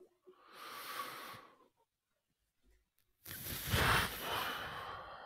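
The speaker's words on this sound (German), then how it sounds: "da schnauft er" A man snorts and breathes out heavily in two close, breathy exhalations, the second longer and louder, separated by a short silence.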